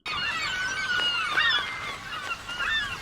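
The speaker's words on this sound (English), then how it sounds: "what is happening with these birds?" Several birds honk in repeated nasal calls over steady outdoor background noise, fairly close and moderately loud.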